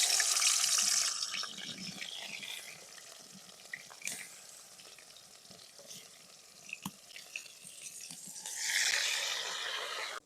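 Spices hit hot oil in a pan for a rohu fish curry with drumsticks, giving a soft, steady sizzle with brief clinks and stirring sounds, swelling louder near the start and end.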